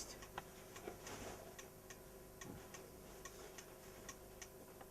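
Faint, steady tick-tock of a mechanical clock just set going, even regular ticks close by in a quiet room.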